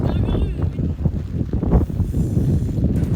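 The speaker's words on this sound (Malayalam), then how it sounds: "നല്ല കാറ്റും മഴയാണ്" Strong monsoon wind buffets the microphone during a rainy village fishing trip in a small rowed boat, a rough continuous low roar with splashing water and a voice heard through it.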